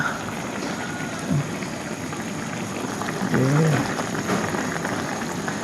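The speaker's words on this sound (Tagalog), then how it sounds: "meron siyang niluluto dito, Yung, ito pang beef, pork steak" Beef and pork steak simmering in a pot give off a steady bubbling, boiling hiss with faint rain-like patter, while a voice talks briefly in the background.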